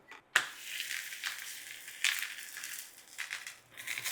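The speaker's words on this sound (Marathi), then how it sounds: "आपण नेहमी भाजतो तसेच पराठे भाजून घेऊया." An aloo methi paratha roasts in ghee on a medium-hot tawa, giving a soft, continuous frying hiss with a sharp tap at the start and gentle swells as it is pressed, quiet overall.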